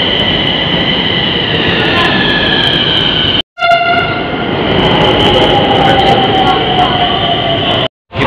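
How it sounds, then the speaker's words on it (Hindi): Metro train on an urban line pulling into a station in India, a loud continuous rumble of wheels and motors with rising and falling tonal whines, interrupted by two brief silent gaps, no speech. "अभी मेट्रो को रुकना पड़ेगा"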